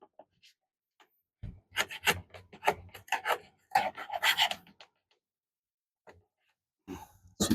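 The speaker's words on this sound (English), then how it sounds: "Now we're gonna chisel." Wood chiseled on a handmade deckbox, with bursts of rasping, scraping strokes in quick irregular clusters, close and loud, separated by short silent pauses and with some breathing between them.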